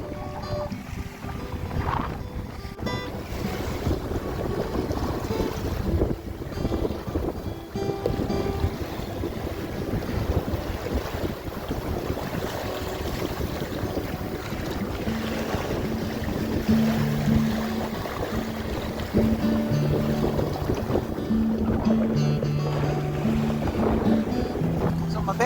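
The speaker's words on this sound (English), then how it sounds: "It's quite windy." Strong wind roars and buffets across the microphone aboard a sailing dinghy off Waiheke Island, a loud continuous rush mixed with water splashing against the hull, with brief faint tonal sounds near the end.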